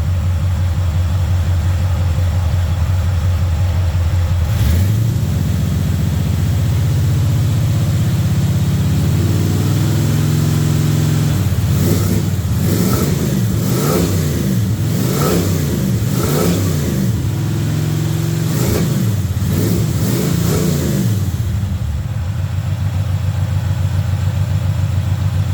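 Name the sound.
1971 Chevy C20 truck engine cold start idling and revving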